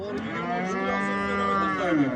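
A black-pied dairy cow at a livestock market lets out one long, loud, drawn-out moo that slides lower at the end, heard close against a background of market noise.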